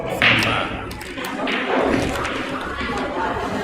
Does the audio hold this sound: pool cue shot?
yes